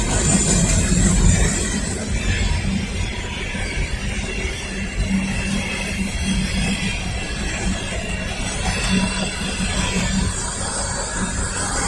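An empty Norfolk Southern coal car freight train rolls steadily past at a Lynchburg, Virginia trackside, its wheels rumbling and clattering nonstop over the rails, fairly close and loud throughout with no voices.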